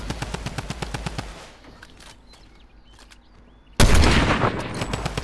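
Rapid automatic gunfire in a video game crackles in quick bursts, drops to quieter sporadic shots, then erupts into a loud, dense volley near the end.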